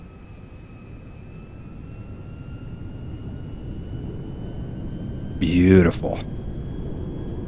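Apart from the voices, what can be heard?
DC-10 airliner taking off at night in GTA V video game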